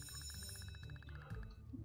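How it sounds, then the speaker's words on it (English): A school recess bell rings in the Kindergarten video game, a faint rapid metallic trill repeating evenly for about a second and a half over low background sound. "that's the recess bell"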